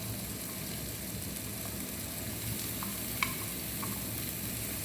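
Finely chopped capsicum sautés in melted butter in a pan, giving a steady, soft sizzle with a few faint clinks of stirring over the top.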